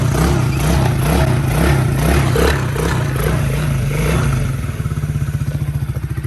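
A choked 125cc Tao Tao ATV engine runs loud and close, idling with a steady chugging rhythm that shifts to a faster, pulsing putter near the end.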